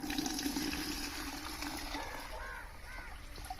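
Liquid pesticide mixture strained through a sieve into a sprayer on an organic farm in Kerala, giving a steady, close splashing trickle of pouring liquid that runs throughout.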